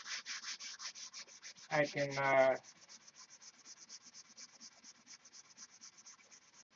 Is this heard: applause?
no